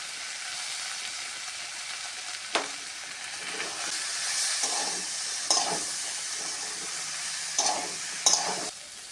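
Vegetable soybean curry sautéing in a pan, a steady soft frying hiss with occasional scraping stirs and small sizzle bursts, alone with no voices.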